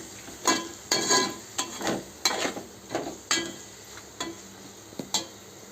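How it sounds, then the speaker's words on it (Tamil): Chopped tomatoes sautéing in a pan with ginger and garlic, a soft steady sizzle broken by a series of distinct scraping stirs at uneven intervals, close and moderately quiet, with no voices. "இஞ்சி பூண்டு நல்லா வதங்கி தக்காளியை போட்டாச்சு"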